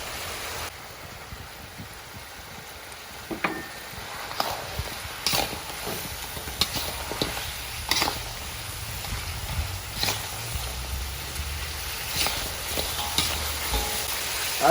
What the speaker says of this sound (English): After you put the lobster in, go ahead and toss in the green onion.